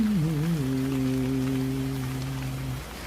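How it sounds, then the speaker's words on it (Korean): Rain falls steadily as a soft, even hiss while a voice holds a sung, wavering note over it for most of the clip before fading. "비가 시원하게 하염없이 내리고 있잖아"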